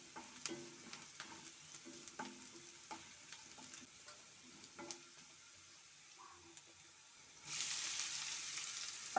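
Grated mango is stirred and cooked in a pan, a quiet sizzle marked by soft, irregular scraping strokes, ending in a louder, steady rush of frying for the last couple of seconds.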